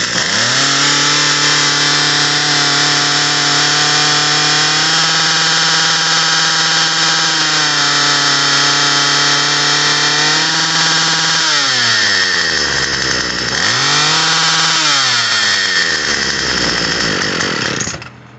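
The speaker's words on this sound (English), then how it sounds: "I'll start it up and I'll show you counterclockwise what it sounds like and then clockwise what it sounds like." A Troy-Bilt TB22EC string trimmer's small two-stroke engine runs loud and steady during carburetor adjustment, holding a high buzzing pitch before dipping and surging twice near the end, then cutting off, with no talking.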